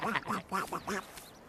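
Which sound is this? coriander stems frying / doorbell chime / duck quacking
duck quacking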